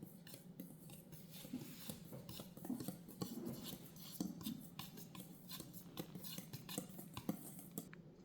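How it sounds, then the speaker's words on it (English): Baking powder and salt whisked lightly into flour in a bowl: soft, quiet, rapid scraping and light clinking taps of a whisk against the bowl, continuing in an irregular rhythm. "we're going to add our baking powder and our salt into our flour and lightly whisk it till it becomes unified."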